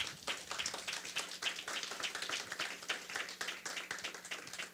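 Audience applause at an MOU signing ceremony during a Taiwan–Germany forum, a steady patter of many hands clapping at moderate distance, continuous and fairly quiet for the full stretch with no voices on top.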